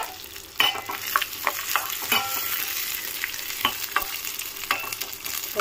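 Cashews, raisins and fresh coconut fry in ghee in a pan on the stove, with a steady close sizzle and repeated scraping, clinking stirs. No one speaks.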